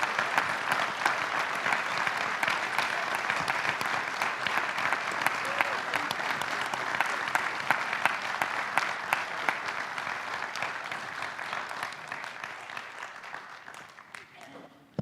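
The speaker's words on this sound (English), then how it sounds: "I think we ought to give them a round of applause for a job superbly well done" A UFOFest crowd at McMenamins claps for a panel of speakers, a sustained, even round of applause that carries on steadily before fading out toward the end, with some voices underneath.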